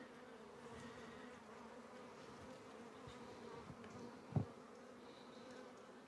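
Honeybees hum in an opened hive during a spring inspection, a faint, steady, close buzzing that persists throughout, broken once by a brief soft knock.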